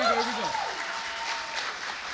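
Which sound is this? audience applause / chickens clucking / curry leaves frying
audience applause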